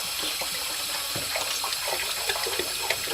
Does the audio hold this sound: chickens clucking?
no